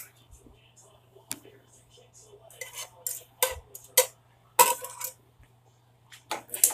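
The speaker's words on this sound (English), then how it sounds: "And my butter is melting. I'm going to use a whisk." A whisk stirs melting butter in a pan while making homemade mac and cheese, giving scattered metallic clinks and scrapes that sharpen into louder bursts, with a steady low hum beneath and brief quiet talk.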